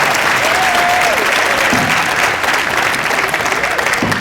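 A school audience applauds a beginning band at a demo night, steady dense clapping from a crowd filling the room throughout.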